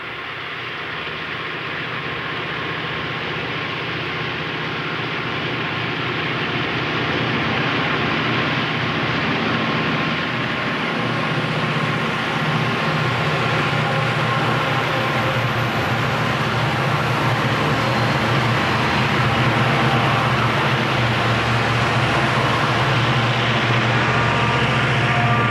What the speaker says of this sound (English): we catch one more train today arriving at Malta